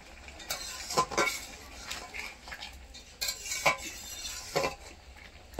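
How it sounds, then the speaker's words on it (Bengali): A metal spatula stirs fried fish into simmering curry in a pan, giving a few soft clinks and scrapes at intervals over a quiet bubbling background, with no talking. "মাছ দেওয়ার পরে খুন্তি দিয়ে একটু নেড়ে দেবো।"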